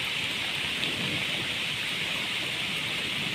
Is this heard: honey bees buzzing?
no